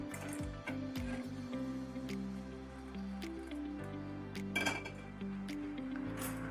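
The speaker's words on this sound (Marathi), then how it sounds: "मी तो आता एका भांड्यात काढून घेते।" Roasted semolina is scooped from a pan into a bowl, with soft scraping and scattered clinks of metal utensils against vessels, quiet and close with no talking.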